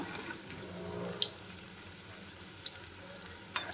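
Vegetable Manchurian balls deep frying in hot oil, a steady soft sizzle with faint crackles and small pops throughout, no voices.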